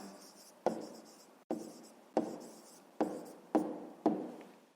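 Pen writing by hand on paper, short scratchy strokes in six quick bursts with brief pauses between, close and fairly quiet, no talking.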